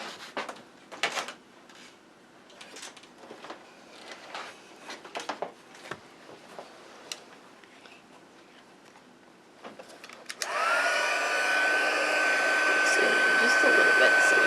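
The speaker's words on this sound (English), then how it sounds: "then I'm going to bring in my heat tool" A heat tool switches on partway through and blows a steady, loud roar while melting embossing powder on a card, following quieter handling and tapping sounds of crafting at a table.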